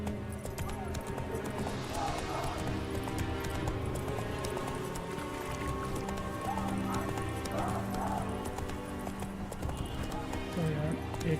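Steady clip-clop of horse hooves from riding in The Witcher 3 on Death March difficulty, a continuous trotting rhythm with an occasional neigh, layered under game music and ambience.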